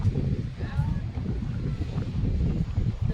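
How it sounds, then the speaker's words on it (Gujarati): Steady cool sea wind off the ocean at Diu blows hard against the microphone with a constant low rumble, like an open seaside breeze, and voices faintly beneath it. "પવન આવે ટાઢો ટાઢો"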